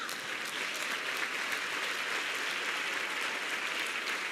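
A church congregation claps together steadily throughout, a dense, sustained wash of applause with no voices standing out above it.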